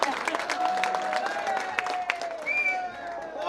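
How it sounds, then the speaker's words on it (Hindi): Crowd applause at an Independence Day arts society program in Talagang, dense clapping and cheering with voices mixed in and a whistle-like tone running through. "अपने दोस्त के लिए तालियां बजाएं"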